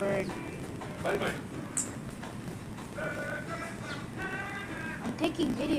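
Two baby birds squeak in short high bursts from under a seat in a Burger King restaurant, close by amid restaurant background noise, with excited voices talking over them.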